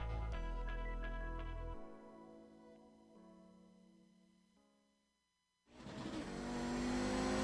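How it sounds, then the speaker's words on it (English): A GSRC Audi race car circles Road Atlanta in the iRacing simulator. Its engine revs loudly through shifts, drops away almost to silence mid-lap, then roars back hard and full. "we're in the GSRC Audi, so let's do a lap around Road Atlanta"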